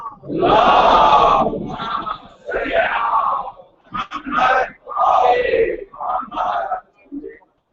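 A congregation at a Muharram majlis shouts salawat in unison in answer to a call, a series of loud, massed bursts, the last trailing off.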